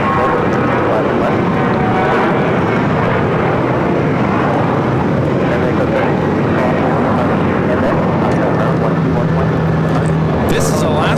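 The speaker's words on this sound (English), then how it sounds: "This is Alaska Airlines 1430 taking off to Puerto Vallarta on the 737-900ER." An Alaska Airlines Boeing 737-900ER, flight 1430 bound for Puerto Vallarta, takes off at LAX as a steady, broad roar of jet engine noise holds at a loud, constant level throughout, with voices talking over it.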